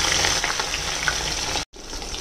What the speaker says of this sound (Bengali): মাছগুলো কিন্তু কড়া ভাজা হবে না